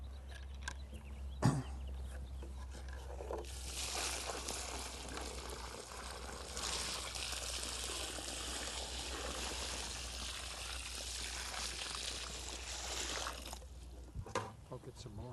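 Water is poured from a container into a deep planting hole in the ground, making a steady rushing splash that lasts about ten seconds, with faint voices nearby.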